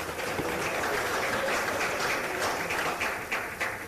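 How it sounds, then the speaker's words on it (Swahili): An audience at a live investment meeting on agriculture applauds a minister with dense, steady clapping that fills the room and continues for the whole stretch. "Naomba tumpigie makofi mengi sana."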